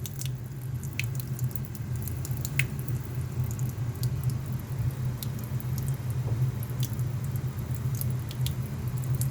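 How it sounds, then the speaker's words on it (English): Steady water flow trickling and dripping out of a disconnected furnace hose onto the floor, continuous close wet patter with occasional sharper drips over a low hum, no talking. "Bunch of fucking water just keeps on coming out."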